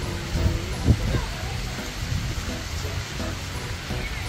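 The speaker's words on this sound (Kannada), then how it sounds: "ಜೋರು ಮಳೆ ಬಂತು" Heavy rain pours steadily during a flood, a dense, continuous roar of falling water with a few louder gusts and thumps near the start, no voices standing out.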